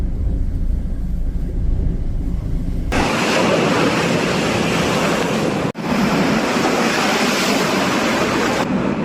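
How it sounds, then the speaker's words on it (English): Storm waves pounding the Scottish shore during Storm Ashley, a loud continuous roar of surf and wind noise with one brief dropout, no voices. "Waves pounded the shores of Scotland as Storm Ashley rolled in."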